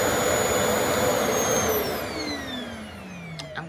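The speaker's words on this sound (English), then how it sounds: "I'm going to turn the power on back here. And as soon as I start setting my tension," A Revair hair dryer runs at setting 2 with low heat, a loud steady whooshing roar close by, its pitch sliding gradually downward as the motor settles.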